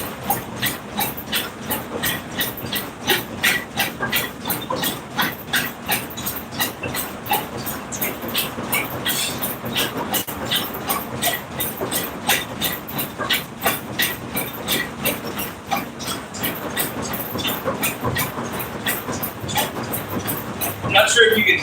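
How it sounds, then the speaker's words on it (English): A treadmill runs steadily during a cardio workout with a fast, even rhythmic thumping of footfalls and a whirring belt. It is loud and close, with a voice speaking over it. "I'm not sure if you can hear me over the treadmill."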